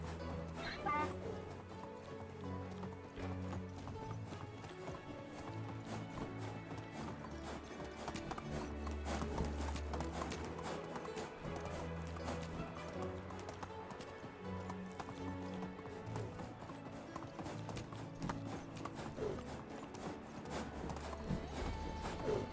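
A horse in Medieval Dynasty gallops with steady, faint clip-clop hoofbeats under game music and ambient sound, with a voice talking over it.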